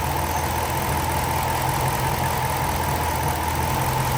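A 2006–2010 Dodge Charger engine idles at full operating temperature, a steady close mechanical hum with an even low rumble and no change in pace, with no talking over it.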